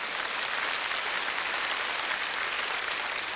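Steady, dense studio audience applause on a game show parody, even and continuous throughout, with no voices heard.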